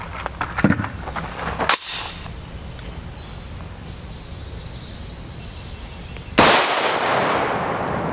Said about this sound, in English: We shoot the M193 first.